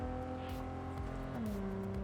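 Car driving in the video game Cyberpunk, a steady engine drone with a pitch shift midway, continuous and fairly close, with faint voices over it.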